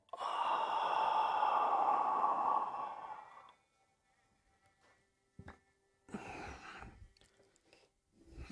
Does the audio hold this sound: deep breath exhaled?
yes